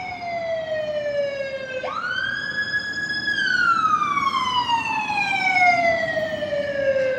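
An ambulance siren wails loud and close on a New York City street, its pitch sliding up sharply partway through and then gliding steadily downward as it goes past, with no voices over it.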